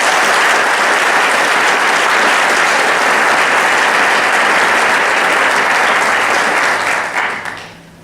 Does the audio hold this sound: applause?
yes